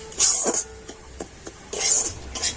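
A utensil stirs semolina and flour in a wok, making soft scraping strokes against the metal in uneven pulses, close and moderately loud, with no talking.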